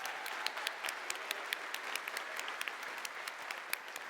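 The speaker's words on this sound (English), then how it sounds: "Let's give them a round of applause." Audience applause at a TwitchCon 2017 cosplay contest, a steady wash of many hands clapping for the entrants at moderate distance, with sharper individual claps standing out through the four seconds.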